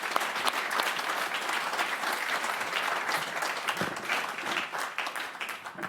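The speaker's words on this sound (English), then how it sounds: "Big applause for them." Audience applauding a panel after a fireside chat on innovation, a steady wash of many hands clapping at moderate distance, continuous and slowly thinning toward the end.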